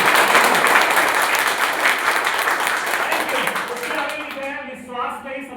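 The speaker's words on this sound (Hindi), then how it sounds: "अपने लिए जोरदार ताली बजाइए" A seminar hall audience claps loudly in a thick, continuous burst that gradually thins and fades, with a voice starting to speak over the dying applause in the final seconds.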